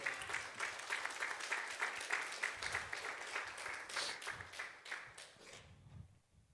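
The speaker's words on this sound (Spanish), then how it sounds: "Give her an applause to God." A church congregation applauding at a service, rapid many-handed clapping at a moderate distance that stays steady and then tapers off toward the end.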